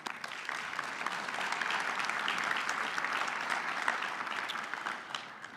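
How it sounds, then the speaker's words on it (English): A lecture audience claps steadily for several seconds, dense and even, then tapering slightly at the end. "help me thank our past lecturers with a quick round of applause"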